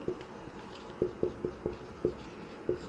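Chalk or marker tapping and scratching on a classroom board during a Hindi history lesson, a series of short sharp knocks spaced irregularly, fairly close and quiet, with no talking.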